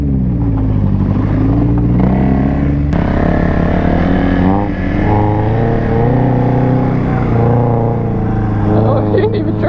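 Two-stroke three-wheeler engine revving hard while drifting, a loud buzzing, wavering engine note held throughout at close range, with voices talking over it.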